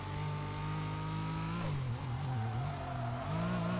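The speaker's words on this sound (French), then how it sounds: "c'est parti, découvrons cette Renault 5 Turbo" Renault 5 Turbo racing in Tokyo Xtreme Racer Drift 2 on PS2: a loud, continuous engine drone that rises and dips in pitch through shifts, with tires squealing as the car slides through corners.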